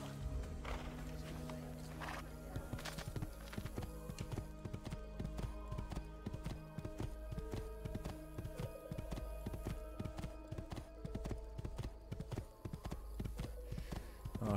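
In Assassin's Creed 2, a horse's hooves clip-clop in a quick, continuous rhythm over a low background rumble. The hoofbeats are close and clearly defined, and no one speaks.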